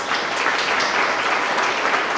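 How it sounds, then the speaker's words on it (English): Audience at an arts summit in a Calgary art gallery gives a steady, even wash of applause, dense and continuous from many hands with no voices over it. "give a great big round of applause to our organizing committee, our hosts here at the Art Gallery of Calgary, and my fabulous team"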